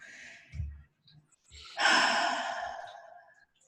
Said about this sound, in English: there's a yawn